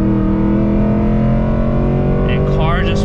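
A 2024 Mustang GT fitted with headers pulls hard under full throttle, its exhaust a loud, steady, rising drone heard from inside the car, with a brief voice near the end.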